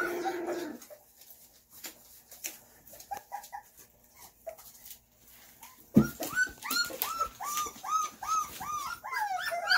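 Several foster puppies in a puppy pen whine, yip and whimper in repeated rising squeals, quiet and scattered at first, then a loud burst of close, busy vocalizing with roughhousing noise beneath.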